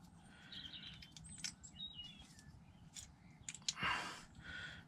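Small birds chirping indoors near a tabletop model build, with scattered high tweets and one brighter burst over a steady low background hum, faint and distant.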